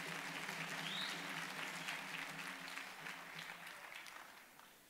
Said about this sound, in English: I would like to request our graduates to give them a big round of applause